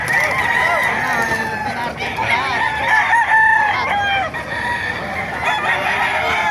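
Roosters at the Bocaue chicken market in Bulacan crow loudly and repeatedly, with overlapping cock-a-doodle-doos and clucking from many birds crowded close together.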